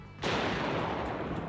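An explosion in the video game Zenless Zone Zero bursts in suddenly and loudly, then holds as a dense, sustained roar to the end without fading much.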